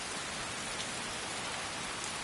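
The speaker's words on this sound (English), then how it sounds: "I find something very, very peaceful about the rain and thunderstorms" Rain falls in the video game Skyrim as a steady, even hiss of drops with no pauses. It sounds fairly faint, and no distinct thunderclap stands out.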